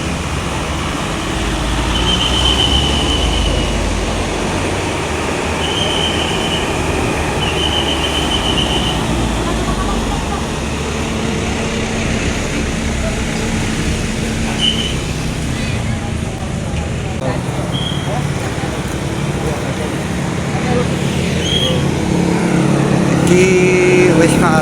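A Basuri bus pulls away with a steady, loud engine rumble that holds the full length, mixed with passing road noise and occasional faint tones, with people talking nearby.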